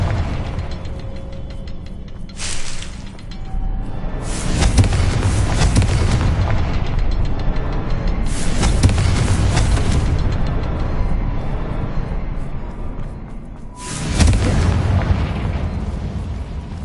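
In the Hogwarts Legacy video game, the Confringo explosive spell is cast repeatedly: several loud bursts and booms at irregular intervals ring out over a constant rumble of game ambience.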